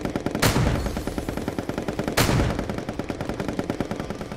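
Rapid bursts of gunfire from the party video game Pummel Party, two sharp loud shots over a dense, steady rattle of automatic fire that runs throughout, with no talk.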